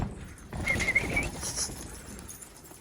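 Pigeons at a pigeon gathering spot in Gaziantep give a short, moderately loud burst of cooing and wing-flutter noise, with a thin high chirp partway through, then settle into quiet room tone.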